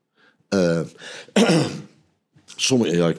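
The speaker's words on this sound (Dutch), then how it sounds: "Ik begin te hoesten, niet omdat ik er emotioneel van weer, maar ik ben gewoon verkoud." Someone with a head cold coughs and clears their throat in three separate rough bursts, close and fairly loud, with short pauses between them.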